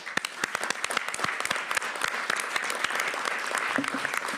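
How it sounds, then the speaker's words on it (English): Applause from attendees at a university board of trustees public meeting: brisk, close clapping from a room-sized group, steady and fairly loud with sharp individual claps. "I'd like to just applaud them for that"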